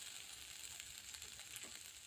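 Paneer tikka pieces roasting in a pan until red on both sides, giving a faint, steady sizzle with small crackles and no talk.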